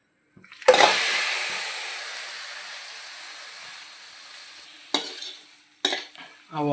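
Soaked prawns hit hot oil in a pan for prawn pickle with a sudden loud hiss that slowly fades, followed by a few sharp bursts of stirring and sizzling near the end.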